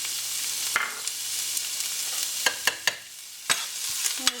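Chopped onion and garlic saute in olive oil in a pan under a soft, steady sizzle, while a utensil scrapes and clacks against the pan in several sharp knocks.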